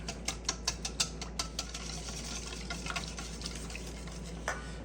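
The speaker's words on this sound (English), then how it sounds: "let's add our egg yolks and our sugar. Whisk this all together until everything is combined" A whisk beating egg yolks, sugar and cornstarch in a bowl, quick rhythmic clicking taps close up, steady and fairly loud over a low hum.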